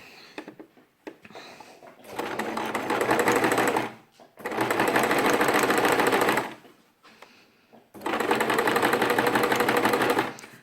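A sewing machine stitches fabric with the needle set off-centre to the right, running in three loud steady bursts separated by short pauses.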